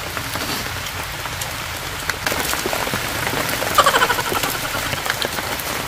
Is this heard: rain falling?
yes